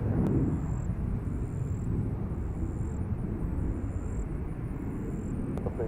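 A Delta airliner taking off from Nashville International Airport, a steady loud roaring jet rumble at a distance that holds evenly throughout, with faint high tonal beeps above it and no speech.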